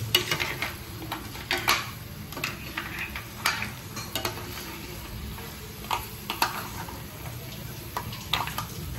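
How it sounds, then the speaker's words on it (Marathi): Crabs being stirred into masala in a pan, with a soft frying sizzle underneath repeated sharp spoon scrapes and clacks against the metal at an uneven, busy rhythm, close and alone. "चिंबोऱ्या टाकलेल्या आहेत. मस्त मिक्स करून घ्यायचा."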